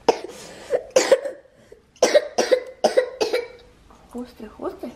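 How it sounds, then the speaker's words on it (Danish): A small boy coughs in a series of sharp, close bursts, roughly six coughs spread over several seconds, followed by some quiet vocal sounds at home. "Hoste, hoste."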